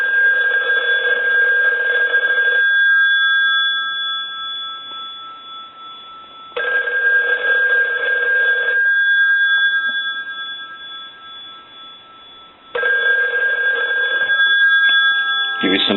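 An ITT rotary desk telephone bell rings loudly in three long bursts of about two seconds each, with a faint continuous tone humming between them.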